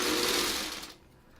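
A sewing machine stitches a 1938 Blockade quilt block with Y seams, a steady close whirring run that stops abruptly near the end.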